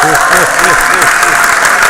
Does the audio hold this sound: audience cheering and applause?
yes